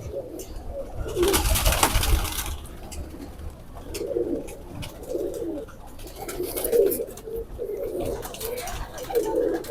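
A China pigeon (cheena kabootar) coos repeatedly in low, throaty phrases at close range, with a burst of rustling or wing flutter early on and faint background noise throughout.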